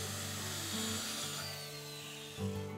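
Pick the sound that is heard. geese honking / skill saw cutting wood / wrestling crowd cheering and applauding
skill saw cutting wood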